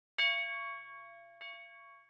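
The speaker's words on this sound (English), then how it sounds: "I went into Purity again and I pulled out this tubular bell" Two strikes of a tubular bell sample in FL Studio, a bright metallic clang with a long ringing tone, the second hit quieter, heard alone without voices.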